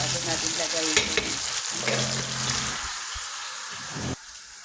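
Tomatoes fry in a pan for ampalaya with egg, a steady close sizzle with crackling spatter and occasional stirring clatter throughout, easing slightly near the end.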